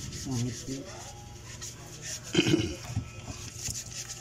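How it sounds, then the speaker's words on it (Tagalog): Apples being scrubbed with a Scotch-Brite pad and soap to strip their wax: close, irregular rubbing and scraping strokes with a couple of louder scuffs, while a voice talks faintly underneath. "sabunin natin at kuskusin ng Scotch Brite para sure na matanggal yung yung wax"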